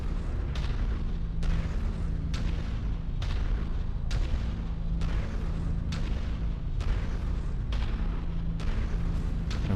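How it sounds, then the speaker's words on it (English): Infantry gunfire in the MechWarrior 5 video game comes as a rapid, regular series of loud booming shots over a constant heavy mechanical rumble, with no voices heard. "An infantry guy shooting at us."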